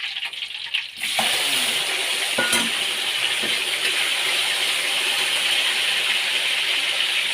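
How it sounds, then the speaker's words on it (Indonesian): Tomatoes hit hot oil in a pan for sambal terasi, bursting into a loud, steady sizzle that continues unbroken up close after a short quieter start. "kita goreng dulu tomatnya"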